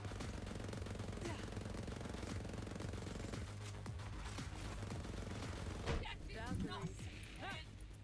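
Rapid gunfire from a Monarch mech in a video game, a dense continuous automatic burst at moderate level, with a voice speaking over the later part.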